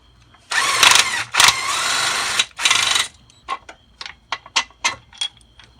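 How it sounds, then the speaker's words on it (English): A 19mm bolt being removed from the rear transmission T bracket of a 1996-2000 Honda Civic: three loud, buzzing bursts from a power tool, then a string of sharp ratchet-like clicks, all close up with no talking. "there's a 19mm bolt that goes to that rear T bracket. We're going to go ahead and remove that."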